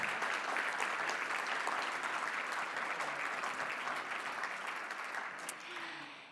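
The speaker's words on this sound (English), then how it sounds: "So big round of applause for our drum team." Big audience applause for a drum team at the Explorance World 2024 event, a dense, loud, sustained wash of clapping that holds steady and then gradually thins and fades near the end.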